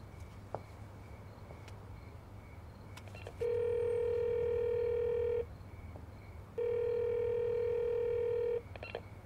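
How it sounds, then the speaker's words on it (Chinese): Ringback tones from a phone call that is not getting through, two long steady electronic tones separated by a pause, over a quiet background hum with a few faint clicks. "电话一直都打不通"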